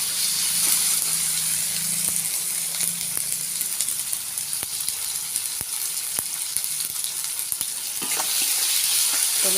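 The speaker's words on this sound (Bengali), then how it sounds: "টমেটোটা ভালো করে ফ্রাই হয়ে গেছে" Tomatoes fry in a pan with a pinch of salt, giving a loud, steady close-up sizzle broken by scattered clicks and scrapes of stirring throughout.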